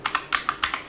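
Six quick computer keyboard keystrokes tap out in close succession, crisp and near, with brief gaps between pairs of clicks and no voice.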